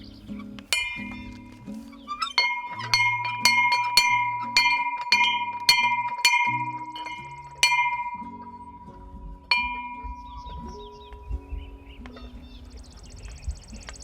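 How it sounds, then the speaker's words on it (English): A hanging bell on a post rings repeatedly in a steady rhythm, each bright metallic strike ringing out and decaying, close and clear, with a few spaced final strokes and low talk in the background. "we hung the bell"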